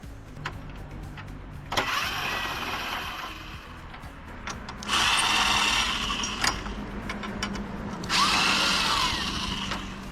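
A power drill backs T25 Torx screws out of a mesh grille on a 2009–2014 truck, with two sustained whirring bursts of the drill near and loud over a steady background rumble.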